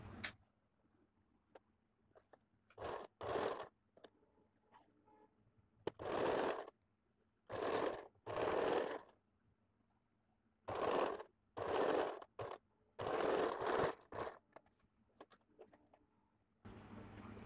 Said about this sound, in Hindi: पहले मैं यहाँ पे सीधा करके मिडल पे एक सिलाई लगाऊंगी।